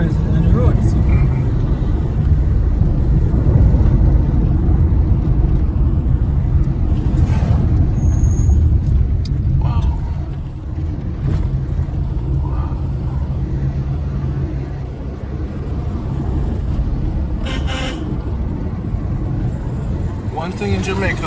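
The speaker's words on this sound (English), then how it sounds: "Other cars on the roads." Cars roll along a Jamaican road between Montego Bay and Manchester, heard from inside a moving vehicle as a loud, continuous engine and tyre rumble. Occasional passing whooshes rise above it while people talk over the drone.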